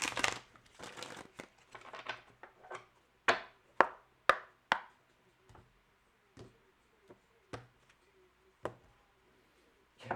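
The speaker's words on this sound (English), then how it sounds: "Last shuffle here." A deck of tarot cards shuffled by hand: a burst of soft riffling and crinkling, then a string of sharp, separate card snaps and taps that thin out and come further apart, close and quiet with no talk.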